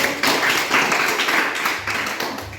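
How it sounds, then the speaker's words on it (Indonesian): An audience claps for the final group at a classroom presentation session, a dense continuous patter of hands that swells and dips slightly over a few seconds, fairly close and steady. "Tepuk tangan untuk kelompok terakhir"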